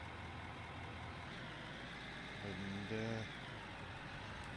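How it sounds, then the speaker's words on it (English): In a mining video game, a vehicle engine comes on as a low, steady mechanical hum under a faint voice. A brief rising tonal whine marks the start before it settles into a constant idle rumble. "start the engine"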